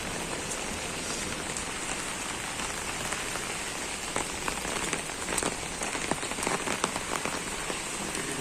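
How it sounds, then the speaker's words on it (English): Heavy rain pours down steadily in Moscow, a dense, continuous hiss of drops hitting surfaces close by, with scattered louder splashes and no talk. "Such a huge rain."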